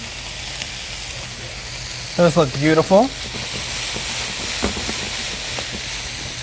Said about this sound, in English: add a little bit more olive oil to this just to get our capers kind of sizzling away